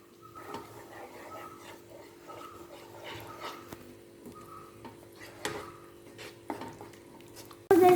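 Coconut milk is stirred into fish gravy for seer fish pollichathu in a pan, with soft, faint scraping and tapping strokes in an irregular rhythm over a low background hum, ending in a louder knock.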